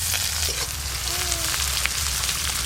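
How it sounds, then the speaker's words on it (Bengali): Chopped onion hits hot mustard oil, tempered with five-spice and dried red chilli, for ghugni. A loud, steady, close sizzle hisses on continuously like heavy rain, with no talking. "এবার পেঁয়াজ কুচি দিয়ে দেব"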